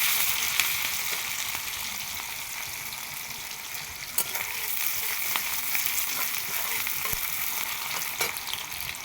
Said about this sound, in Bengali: তো পেঁয়াজ ভাজা হয়ে গেছে